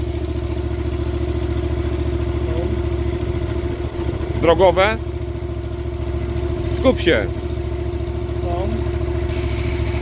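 A motorcycle engine idles steadily nearby during a category A riding licence exam, a low, even rumble under brief bursts of speech.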